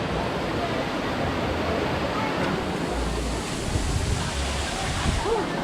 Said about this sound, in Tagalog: Ito na po mismo ba yung Secret Falls?